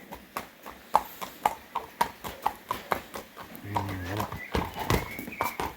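A horse walking on hard ground, its hooves clip-clopping in a steady close rhythm of about a dozen even steps, while someone speaks over the later part.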